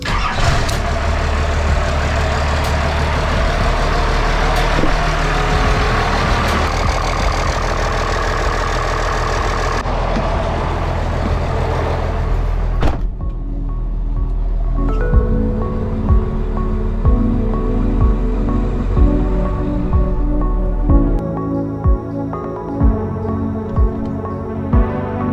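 A twin turbo 12 valve Cummins diesel engine runs loud with a steady roar and hiss, then settles to a rougher idle with periodic knocks, continuous and close.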